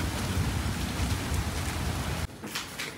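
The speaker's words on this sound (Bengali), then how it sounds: "বাইরে হচ্ছে ঝড় বৃষ্টি," Heavy rain pours steadily outside during a storm, a dense loud roar that suddenly drops to a softer patter near the end.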